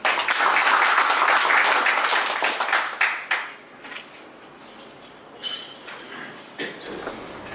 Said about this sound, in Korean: 환영과 감사의 박수를 부탁드리도록 하겠습니다.